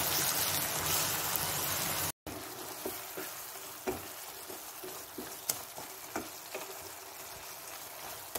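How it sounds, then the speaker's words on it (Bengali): Mango and sugar paste for aam kasundi being stirred in a cooking pan: a steady sizzle with a run of soft, irregular spoon scrapes and taps against the pan, close and fairly quiet. "আমি ওর সঙ্গে এই চিনি আর আমের মন্ডটা মিশিয়ে দিচ্ছি"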